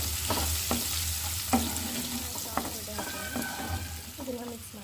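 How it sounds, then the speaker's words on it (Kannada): Masala dosa potato filling, seasoned with coriander and salt, is stirred in a pan over a steady sizzle, with repeated scraping strokes of the spoon close by and no talking. "ಇದನ್ನು ಮಿಕ್ಸ್ ಮಾಡೋಣ. ಇದು ಹೀಗೆ ಮಿಕ್ಸ್ ಮಾಡೋಣ."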